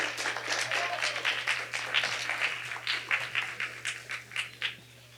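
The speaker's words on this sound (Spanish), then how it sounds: "Un fuerte aplauso, por favor." A small audience claps for several seconds, the claps near and distinct, gradually thinning toward the end over a faint steady hum.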